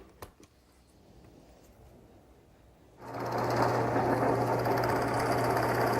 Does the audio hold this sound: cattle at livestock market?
no